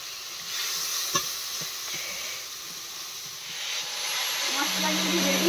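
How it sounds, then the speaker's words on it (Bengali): A splash of water hits spice masala frying in a pan, giving a close, steady hissing sizzle with a few soft stirring knocks. "সামান্য একটু জল দিয়ে দিচ্ছি।"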